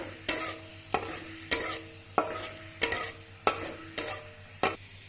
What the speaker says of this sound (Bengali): এখানে একটা তেজপাতা দারুচিনি এলাচ লবঙ্গ দিয়ে দিচ্ছি হালকা একটু ফ্রাই করে নেব